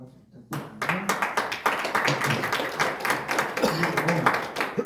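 Audience applause after a speaker is introduced at a tea-tree planting anniversary seminar, a dense, steady patter of many hands clapping at moderate volume that starts abruptly and carries on throughout.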